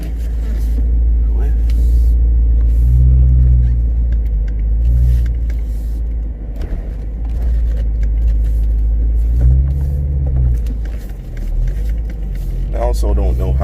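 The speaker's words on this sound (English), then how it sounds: "So you can really hear a lot of supercharger" Supercharged car engine heard from inside on a drive: a constant loud low rumble that rises in a few revving swells with a whining edge, while people talk over it.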